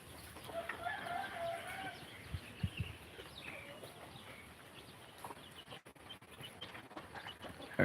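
Chickens and little chicks cluck and chirp at feeding time on a farm, faint and somewhat distant, with muffled voices and rustling mixed in.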